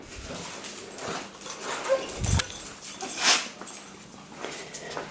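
A dog whimpers and yips in short, high bursts, close by, with a couple of sharper squeals and some shuffling in between.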